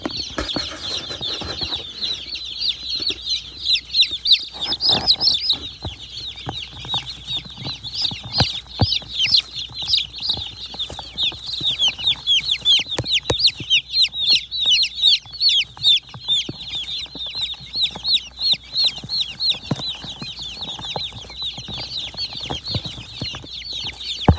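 Many baby chicks peep in a dense, continuous chorus of high chirps, close and steady throughout, with occasional soft rustling and scuffling beneath.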